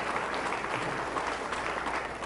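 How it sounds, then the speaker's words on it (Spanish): A church congregation bursts into loud, sustained applause, a dense wash of many hands clapping steadily without a break, close and enveloping, with no voices standing out. "Fuertes aplausos a la palabra de Jesús de Nazaret"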